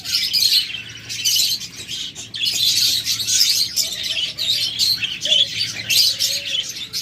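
A pair of rainbow budgerigars at a bird market gives rapid, bright chirps and warbling chatter, with constant overlapping tweets close by and a low hum of activity underneath.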